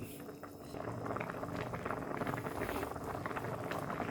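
A pot of Thai pork curry soup bubbles and simmers steadily at a low level, a soft continuous gurgling that grows slightly fuller after the first moment.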